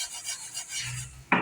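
Chickpeas and rice being stirred while they dry-roast in a pan, giving a steady scraping rasp over the bottom, with a louder, sharper scrape right at the end.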